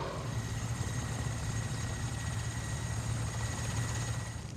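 A firefighting air tanker, a converted surplus military aircraft, flies over the Yellowstone wildfires with a steady, continuous engine drone and a low humming tone that holds even throughout.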